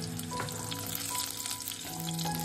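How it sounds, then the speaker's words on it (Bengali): Green chilli, dry chilli and nigella seeds sizzle steadily in hot mustard oil, a dense, continuous frying hiss up close with no talk, alongside faint tonal hum in the background. "সর্ষের তেল ঢেলে নিলাম। কাঁচা লঙ্কা, শুকনো লঙ্কা, কালো জিরে দিয়ে দিলাম।"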